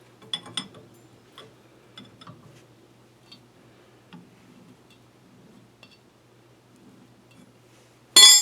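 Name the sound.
24mm wrench tightening car suspension parts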